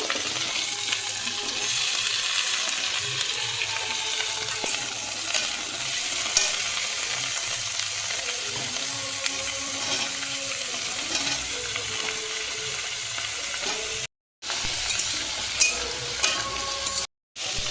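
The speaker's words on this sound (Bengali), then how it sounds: "এবার সব সবজি হালকা করে এক একে সব ভেজে নেব।" Mixed vegetables, including pumpkin, sizzle steadily in a pan while being stirred for a sago and vegetable khichuri. The close crackling fry and occasional scrape of stirring run throughout, broken by two brief silent gaps near the end.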